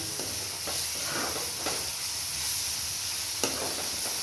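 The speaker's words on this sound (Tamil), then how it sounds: "அது கொஞ்சம் பச்சை வாசனை போகிற வரைக்கும் வதங்கட்டும். நல்லா வதங்கணும்." Ginger, garlic and onion sauté in a pan with a constant near hiss and sizzle, broken by a few soft scraping stirs and a brief clack toward the end.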